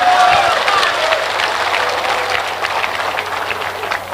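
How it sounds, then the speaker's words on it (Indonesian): Loud, steady applause from an audience at an Islamic question-and-answer lecture, filling the whole stretch as a dense, continuous wash of clapping. "Kalian enak aja tepuk tangan"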